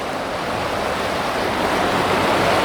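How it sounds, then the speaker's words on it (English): Minnehaha Creek in Minneapolis runs fast with a near-white-water spring flow, a steady, full rushing wash that stays loud and unbroken throughout with no voices. "the water is flowing quite rapidly today"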